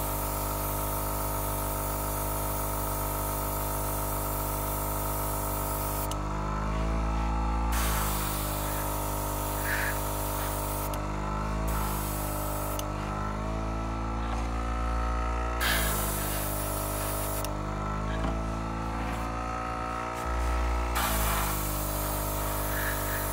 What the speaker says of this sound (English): I must admit, I'm quite impressed with this airbrush.